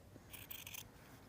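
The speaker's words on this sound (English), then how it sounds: "I have a little slit that I can stick my scissors in and cut the rest of the way right down the middle" Scissors snip through fabric for a triangle pencil case, cutting down the middle from a small slit in a quick half-second run of close, quiet crisp strokes over a low room hiss.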